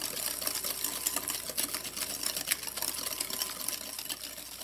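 An electric mixer creaming butter and sugar for coconut turnovers, a faint, steady whir with soft scraping clatter running throughout, no talking.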